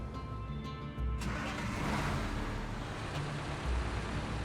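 A logging truck's engine in the video game SnowRunner, a low steady diesel rumble that swells as it revs up after a second, close and continuous with no talk.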